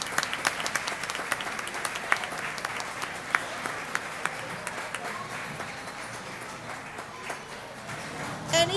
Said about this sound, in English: one big round of applause for them again